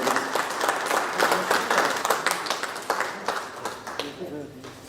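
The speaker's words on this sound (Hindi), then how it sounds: "जोरदार तालियों से स्वागत करें।" An audience at a business members' open-house discussion in Jharkhand applauds to welcome an honoree: loud, sustained clapping from a crowd, with sharp individual claps popping out of the dense wash, fading slightly toward the end.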